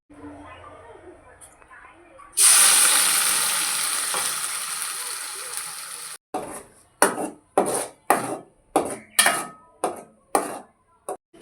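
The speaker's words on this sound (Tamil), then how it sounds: "வெங்காயம் பச்சையாக அரைச்சதுனால எண்ணெயில் போட்டு நல்லா வதக்கிக்கலாம்" Ground raw onion paste is tipped into hot oil in a kadai and bursts into a loud sizzle that slowly fades. It is followed by a series of rhythmic scraping stirs of the pan.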